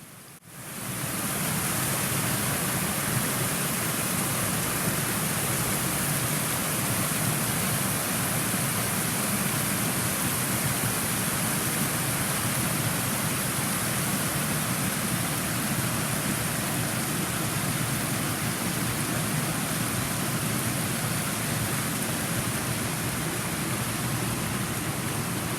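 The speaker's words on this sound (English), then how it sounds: "We stopped at this beautiful creek for lunch." A creek at Piegan Pass in Glacier National Park rushes steadily for the whole stretch, a dense, even wash of flowing water with no pauses and no voices.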